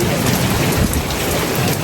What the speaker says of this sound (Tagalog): Ang lakas ng ulan, no? Kakahangin.